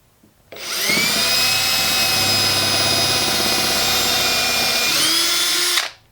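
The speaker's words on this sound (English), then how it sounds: "And then drill the next." A power drill bores a second hole in wood, spinning up sharply to a loud, steady high-pitched whine that holds for about five seconds, dips slightly in pitch, then stops.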